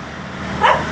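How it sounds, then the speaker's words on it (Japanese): A dog on a city street in Cebu gives one short, clear bark partway through, over a steady background hum. "吠えちゃってるな、あのデブ。"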